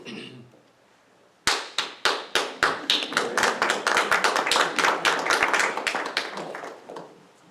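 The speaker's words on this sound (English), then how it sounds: "Thank you for your kind applause." Applause from a small audience at a parish discussion on the New York State ERA ballot referendum, starting abruptly with a few sharp, separate claps and then building into steady, fairly close clapping that fades toward the end.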